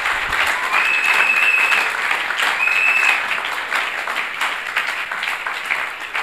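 A church congregation at a Sunday service bursts into steady, dense applause acclaiming Jesus Christ, a loud close wash of clapping from many hands that fades slightly toward the end, with a brief voice call in the middle.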